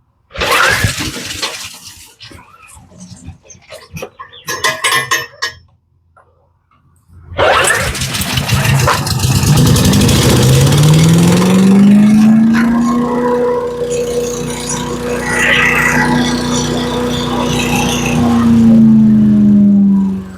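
A wood chipper engine that had sat unused for a while sputters and cranks in short bursts, goes quiet, then catches and revs up to a loud, sustained full-throttle roar with choke on.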